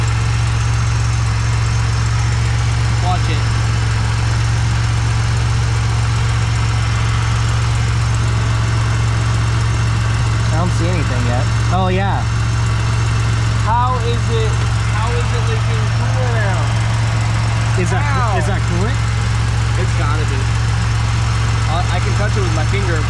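A supercharged Pontiac Bonneville SSEi engine idles with a steady, loud low hum and a constant rumble throughout, just after a lower intake manifold gasket repair, while people talk over it intermittently.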